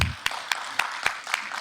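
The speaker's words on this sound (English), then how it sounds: "let's go ahead and clap for that." Steady, evenly spaced claps from a workshop audience honoring an Army veteran, about four per second, crisp and fairly close with no voices over them.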